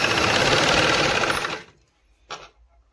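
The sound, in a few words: sewing machine stitching along folded fabric edge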